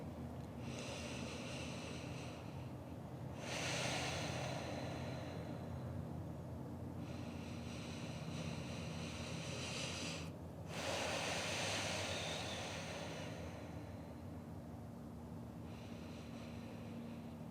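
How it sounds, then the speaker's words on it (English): Slow, deep breathing during a restorative yoga practice, with long airy inhales and exhales rising and falling in a calm cycle, close and fairly soft, with no talking. "Breathe here."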